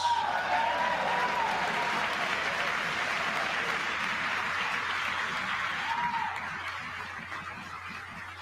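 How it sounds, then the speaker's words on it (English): Audience applause fills a livestreamed mock presidential address, a steady wash of clapping that holds for several seconds and then gradually thins and fades, with some cheering voices mixed in. "we got some claps over here"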